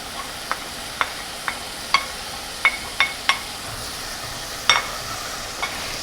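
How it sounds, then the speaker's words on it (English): Finely chopped onions and carrots cooking in extra virgin olive oil for a green pea stew, a quiet steady sizzle broken by a series of sharp utensil clicks and taps against the pan; no voices. "And then I'm going to add some finely chopped onions and carrots."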